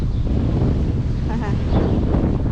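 Strong wind off the Don river in Rostov-on-Don roars steadily across the microphone, a dense, loud buffeting with a brief voice surfacing faintly beneath it.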